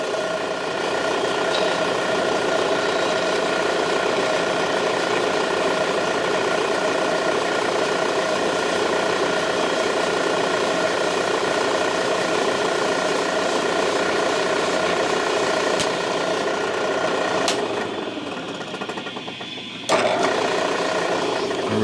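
A machine cuts steadily into a hollow gun stock while installing a swivel stud flush cup, a loud continuous whirring drone that holds for about seventeen seconds and then shifts in tone before stopping near the end.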